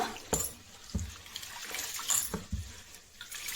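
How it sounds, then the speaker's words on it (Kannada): Water splashes and sloshes in a bowl in uneven bursts as grains are stirred and rinsed by hand, close and fairly quiet. "ಈಗ ಜಾಸ್ತಿ ನೀರನ್ನ ಹಾಕೋಬಿಟ್ಟು ಅಕ್ಕಿನ ಕ್ಲೀನಾಗಿ ತೊಳ್ಕೊಳ್ಳೋಣ"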